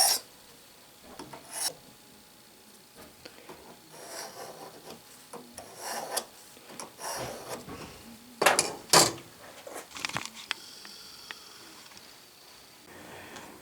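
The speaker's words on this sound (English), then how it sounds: "I'm using my new Craftsman bandsaw, 15 inch." A 15-inch Craftsman bandsaw cuts a piece off along a marked layout line, giving uneven rasping, grinding bursts that rise and fall, with a few sharper surges near the end of the cut.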